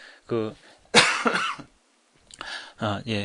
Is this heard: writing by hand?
no